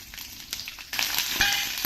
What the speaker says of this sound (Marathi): आता याच्यात आपण लगेचच कांदा घालून घेऊ।